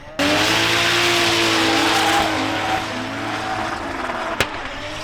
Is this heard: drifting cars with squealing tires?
yes